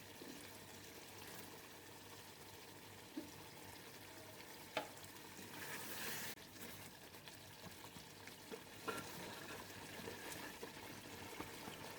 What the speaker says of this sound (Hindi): मसाला देखिए कितना अच्छा सा भून रहा है